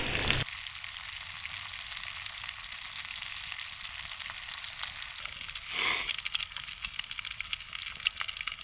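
Small crappie fillets fry in a butter-filled pan, giving a steady, close sizzle that runs unbroken throughout with a brief louder crackle near the end.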